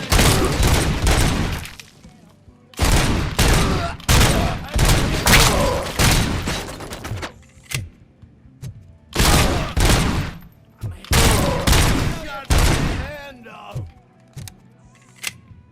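Bursts of pump shotgun and submachine gun fire in the video game Robocop: Rogue City, loud repeated volleys separated by short pauses, with no talking in between.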